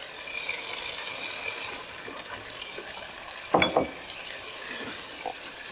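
Water poured into a pot of lentil soup makes a continuous hissing splash with a brief clatter partway through.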